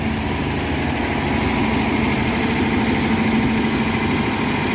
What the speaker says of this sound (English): But just gonna let it idle, run, whatever this is called.